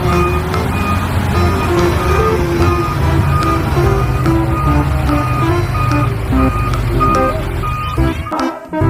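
Toy dump truck reversing, giving loud, continuous electronic beeping and jingling tones that run unbroken for several seconds before cutting off abruptly near the end.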